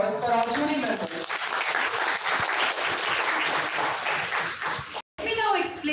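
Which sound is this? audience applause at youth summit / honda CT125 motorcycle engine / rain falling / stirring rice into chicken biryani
audience applause at youth summit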